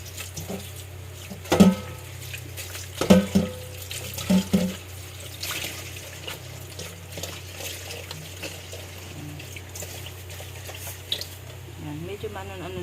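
Running tap water splashes over vegetables being rinsed in a sink, steady and close, with a few louder sloshes and someone talking over it.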